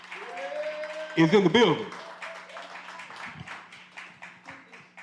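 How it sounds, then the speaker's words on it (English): Audience applause for former Mayor Sheila Dixon as she comes to the stage, steady light clapping from a modest crowd running under an announcer's voice, with a brief burst of music or sound effects partway through. "Give her a nice round of applause as she comes to the stage."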